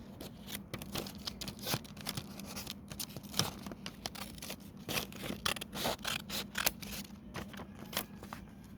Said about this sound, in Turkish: Bakın şu şekilde kesiyorum